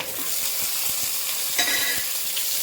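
Chillies, garlic, tamarind, coconut and amla sauté in a pan, giving a steady close sizzle with a few soft stirring scrapes, no voices.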